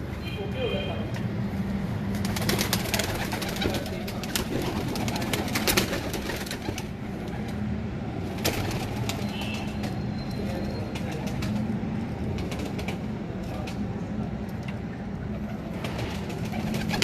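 Breeder pigeons cooing in a loft, soft repeated coos near and far under ongoing conversation between men, with faint background traffic.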